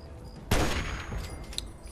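Gunfire bursts out in the Fallout 3 video game, a sharp loud shot followed by a short rattle of further reports and a fading tail, with no voices.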